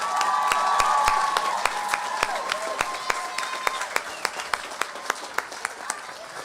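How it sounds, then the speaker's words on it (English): Applause for faculty at a graduation starts as a broad crowd clapping with some cheering, then thins into a few sharp, evenly spaced individual claps, with a faint voice early on. "Let's have a big round of applause for our faculty members."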